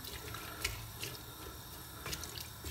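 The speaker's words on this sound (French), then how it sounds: "je vais verser au fond de ma casserole toute ma préparation" Wine marinade poured into the bottom of a saucepan for a beef daube, a faint splashing liquid stream with a couple of brighter splash bursts, heard alone.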